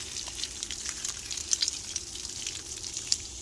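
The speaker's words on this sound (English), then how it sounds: "Got some hot water going." Hot water runs from a portable gas water heater in a thin, splashy trickle with small bright drips and spatters, fairly quiet and with no one talking.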